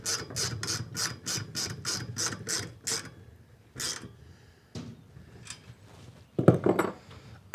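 Ratchet wrench tightening bolts while assembling a Paperpot transplanter: a fast, even run of about ten close metallic clicks, then a few scattered clicks and a louder clatter near the end, with no talking.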